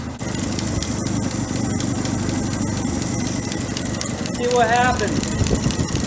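Straight-six engine idling in a Chevy C10 Stepside barn find freshly fitted with a budget ring job, a steady close rumble running the whole time with a brief rise near the end while someone talks over it.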